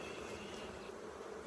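Honeybees buzzing steadily at a hive opened for inspection, the dense insect drone close and continuous with no talk over it.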